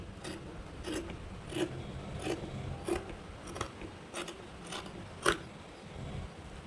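Scissors cut away extra cloth after stitching, making a quiet, close series of about ten crisp snips at a steady rhythm over soft rustling fabric. No one speaks.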